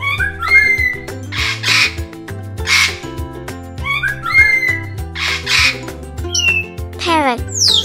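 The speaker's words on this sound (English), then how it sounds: "Parrot." Parrot calls with squawks and whistles set over a musical backing, with bright harsh squawk bursts recurring in a steady pattern alongside short whistled notes and a rising whistle sweep at the end.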